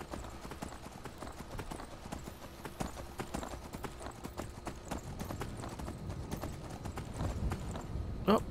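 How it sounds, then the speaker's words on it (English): Rapid, steady clip-clop of horse hooves in Skyrim at a brisk pace, fairly close, with a brief louder burst near the end. "Oh, we got some horses."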